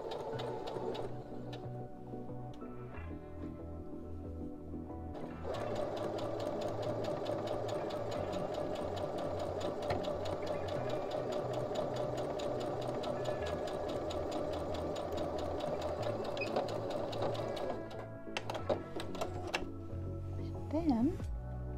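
A sewing machine runs a long straight stitch attaching lace to woven fabric, a steady fast mechanical whir that starts after a few quiet seconds and stops near the end, followed by faint handling sounds.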